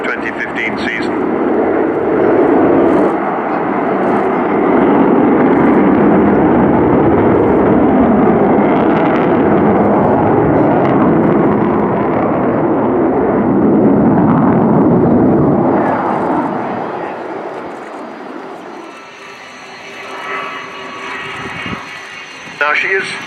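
Avro Vulcan B.2 XH558 jet bomber flying at Fairford: a loud, sustained roar of the jet engines that holds for about fifteen seconds, then fades while a commentator's voice carries on.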